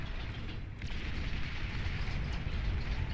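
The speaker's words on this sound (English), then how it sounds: "Just has to keep dodging these bombing runs." Bombing runs in the strategy game Beyond All Reason set off a continuous rumble of explosions, deep booms rolling together with crackling bursts at moderate loudness.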